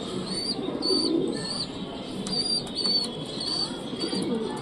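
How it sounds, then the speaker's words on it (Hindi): A pigeon, freshly caught and held close, gives soft low coos at moderate volume against a background of distant chirping birds, with no talking. "बहुत ही प्यारा कबूतर पकड़ा है यार"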